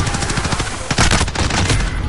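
Rapid bursts of gunfire in a zombies video game crackle continuously, with dense automatic shots and sharp reports layered together like a chaotic firefight.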